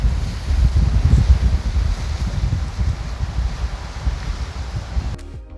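Steady wind roaring and low surging sea noise fill the space inside Chillida's Elogio del Horizonte concrete sculpture on the Gijón coast, a constant loud rumble with gusting texture and no voices.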